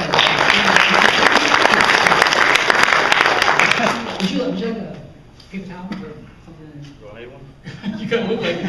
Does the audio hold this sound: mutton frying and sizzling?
no